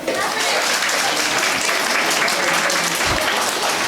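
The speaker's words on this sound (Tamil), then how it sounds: "கைதட்டுங்க எல்லாரும்." An audience at a primary school prize ceremony, held as an education development festival in Sulur, claps steadily and loudly throughout, a dense continuous wash of hands with a faint voice underneath.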